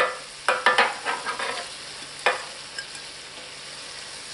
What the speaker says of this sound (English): Next comes the broccoli.